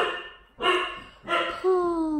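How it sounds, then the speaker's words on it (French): Dogs barking close by at home: two loud, harsh bark bursts, then a drawn-out, falling whine-like howl. "J'ai mes chiens qui n'arrêtent pas d'aboyer"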